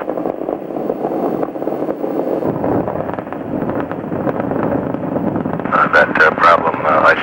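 Space Shuttle Columbia's three main engines roar during the STS-61C launch ascent in a loud, continuous, wind-buffeted rumble, with radio voices and crackle over it.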